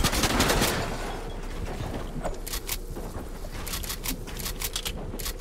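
Automatic rifle fire in Fortnite, rapid cracking bursts that come in clusters over a steady rumbling background, fairly distant and moderate in level.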